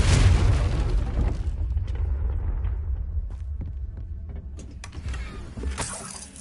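A Confringo blasting spell fired in Hogwarts Legacy erupts with a heavy booming burst that decays into a low rumbling hum, with scattered crackles and a smaller impact near the end.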